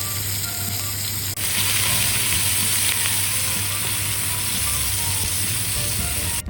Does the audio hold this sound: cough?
no